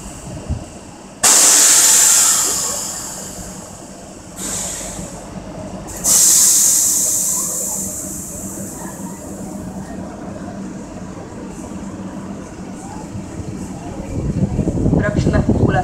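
A Renfe 253 freight locomotive hauling Transfesa and Megacombi wagons rolls through a station, loud hissing bursts over a steady rumble of passing cars, with voices heard faintly.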